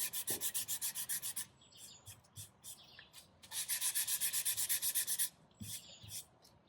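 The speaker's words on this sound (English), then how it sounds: "So you want to sand the area with 220 grit and go with the grain." A wooden picture frame is hand-sanded with 220-grit sandpaper along the grain in quick rhythmic bursts of scratchy back-and-forth strokes, pausing between sets, with faint birds chirping in the background.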